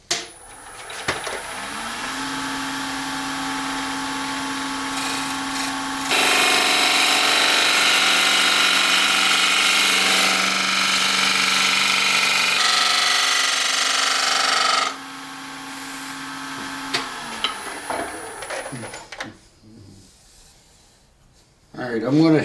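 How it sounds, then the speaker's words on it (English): Wood lathe turning the outside of a bowl with a small dovetail tenon, a steady motor drone with a louder stretch of broadband cutting noise in the middle, then the lathe winding down near the end. "Now I can continue to turn the outside of the bowl."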